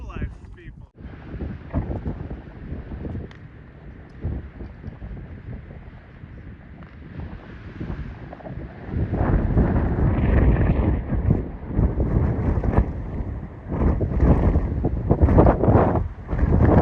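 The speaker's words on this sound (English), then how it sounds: "It is so windy" Strong gusting wind roars across the microphone on a desert stretch of the Pacific Crest Trail near Cabazon and the I-10, a continuous heavy buffeting that swells louder in the second half with no talk.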